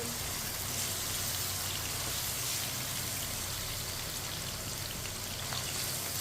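Chana dal fries in oil over a medium flame while a spoon stirs it, a dense, steady crackling sizzle like heavy rain that runs evenly and close throughout.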